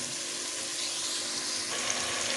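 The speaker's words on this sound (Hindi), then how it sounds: "अब मैं ये इसे उस वक्त तक फ्राई करूँगी तेज़ आंच पे जब तक इसमें हल्का सा कलर नहीं आ जाता।" Chicken pieces for a chicken and potato curry fry over a high flame, giving a steady, continuous hissing sizzle that stays even throughout, with no voices.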